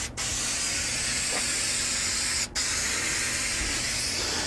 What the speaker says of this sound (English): put it on as if you were painting that Cork with a spray can